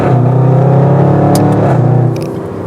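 A Range Rover SVR's supercharged 550 hp engine revs loudly and close as it downshifts, a steady deep roar rising and falling over about two seconds, ending with a brief mechanical crackle.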